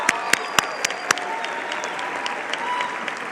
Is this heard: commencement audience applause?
yes